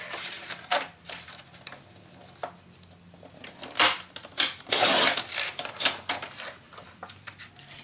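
Paper being cut for a Halloween scrapbook mini album, giving a series of close, crisp snips and slicing strokes in irregular bursts with short pauses between, heard alone without talk.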